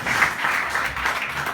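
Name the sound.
audience applauding hypnosis show participants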